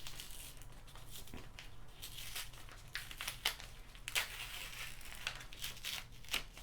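Plastic treat bag seam peeled open by hand at close range, a soft run of crinkling and tearing with a few sharper crackles, quiet and steady with no talking.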